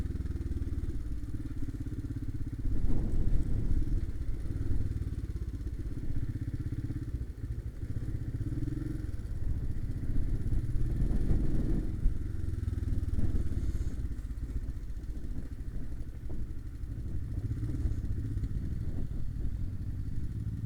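A Honda 650 Transalp and a Royal Enfield Himalayan ride through mud off-road, their engines giving a steady low rumble with occasional surges, thumps and clatter as the bikes bounce along.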